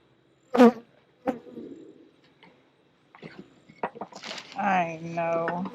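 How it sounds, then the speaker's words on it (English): An agitated honeybee buzzing near the hive during a fall inspection, a sharp close pass early, then a sustained droning buzz toward the end, with soft handling sounds between. "An unhappy bee."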